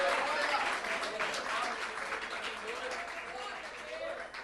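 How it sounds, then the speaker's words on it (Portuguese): A church congregation applauds during a sermon, a broad, sustained wash of clapping with voices mixed in that holds steady and then eases slightly toward the end. "Pode aplaudir ao Rei"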